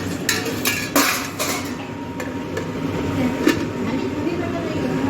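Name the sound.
lid placed on a cooking pot on the gas stove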